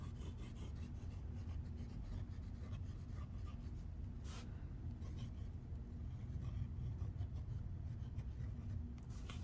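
A TWSBI fountain pen nib scratches across paper while writing a name, a steady soft rasping with small strokes and pauses over faint room hiss, no talk.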